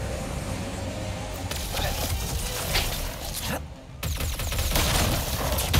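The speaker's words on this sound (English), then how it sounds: "Oh, it is like a shotgun." Enforcer shotgun blasts in Ratchet and Clank: Rift Apart, several loud bursting shots spaced across the stretch amid game effects, with a voice talking over them.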